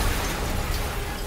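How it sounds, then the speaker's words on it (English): A steady, loud rumbling roar fills the whole stretch, like the sustained blast and debris of an explosion in the Marvel's Spider-Man game, with no distinct onset and no talk. "Yuri, an explosion just..."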